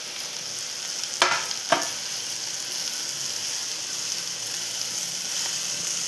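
Soft, steady sizzle of idli pieces frying and being stirred in a pan for idli upma, with two brief sharp scrapes near the start and a constant hiss beneath.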